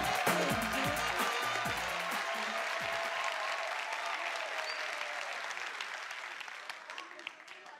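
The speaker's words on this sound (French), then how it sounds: "on va accueillir ensemble avec un camion d'applaudissements le grand Wayou." An audience bursts into loud applause to welcome a performer on stage. The dense clapping is strongest at first, then gradually thins out and fades over several seconds.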